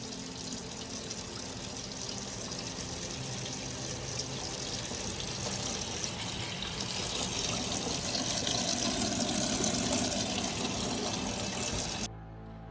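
Water runs from a sink tap into a Ziploc bag, a steady close splashing gush that swells slightly as the bag fills, then cuts off abruptly near the end.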